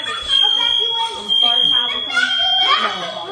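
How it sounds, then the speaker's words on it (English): A fire alarm or smoke detector sounds a steady high electronic tone through most of the moment, under excited children's and adults' voices at a birthday party. "Fire alarm."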